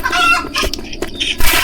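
Chicken clucking in the Roblox game Consume, a quick run of close, loud, choppy clucks over about a second and a half, with no voices.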